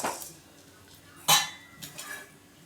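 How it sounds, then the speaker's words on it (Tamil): A metal spoon clinks and scrapes in an empty pan while dried red chillies and peppercorns are dry-roasted for rasam. One loud clank stands out among the lighter rattles and stirring, close and with no talking. "ஸோ வெறும் காலி பாத்திரத்தில் அதை நம்ம வறுத்துக்கிறோம்."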